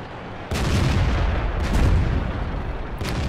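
Tank guns firing in World of Tanks: three heavy booming shots a second or so apart, each followed by a rumbling roar that fills the gaps, loud and close.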